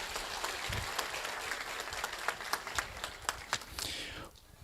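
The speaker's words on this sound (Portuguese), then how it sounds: "Palmas para vocês, excelente." An audience applauds at a Spiritist conference panel, with a crowd's clapping building into distinct louder claps before stopping abruptly into near silence and a brief thump at the very end.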